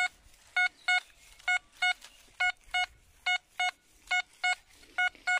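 A metal detector sounds a buried target with crisp repeated electronic beeps in pairs and short bursts, loud and regular over near silence.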